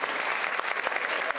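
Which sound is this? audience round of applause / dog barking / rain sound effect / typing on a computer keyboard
audience round of applause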